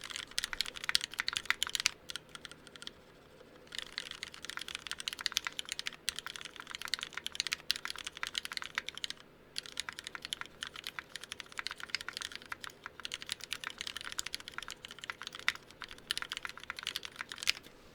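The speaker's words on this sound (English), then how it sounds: "I mostly built this keyboard to test the springs out, and the springs feel good." Typing on a custom-built Duck Viper mechanical keyboard fitted with new springs, a close, steady clatter of fast keystrokes in bursts, with a few short pauses between runs.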